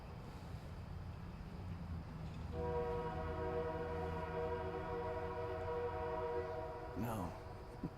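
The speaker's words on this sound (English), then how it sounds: "this one has a good clear whistle." A train whistle blows a long, loud, sustained chord over the rumble of rail cars, rising in after a stretch of train noise and holding steady for several seconds before a brief shift near the end.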